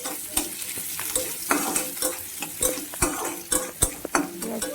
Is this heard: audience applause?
no